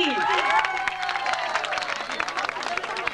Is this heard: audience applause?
yes